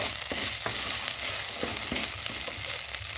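A spice mixture sizzles and fries steadily in a pan for a spinach curry, with a constant close hiss broken by a few sharp scrapes of a spoon stirring.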